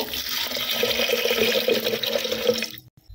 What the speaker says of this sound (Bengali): প্রেসার কুকারে ডাল দিয়ে দিয়েছি, এবারে একটু জল দিয়ে দিব